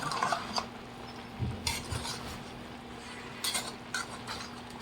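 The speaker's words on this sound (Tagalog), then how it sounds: "So, ang gagawin ko is hahaluin ko muna." Ginataang sitaw kalabasa, string beans and squash in coconut milk, is stirred in a simmering pot, with quiet clinks and scrapes of a utensil against metal over a faint bubbling hiss, no voices.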